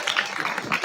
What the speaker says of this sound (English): Everyone, give Sadie a big round of applause.